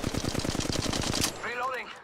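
A rapid burst of automatic gunfire in Apex Legends fires fast, evenly spaced shots at close range for over a second. Then it cuts off, and a short electronic warbling effect follows.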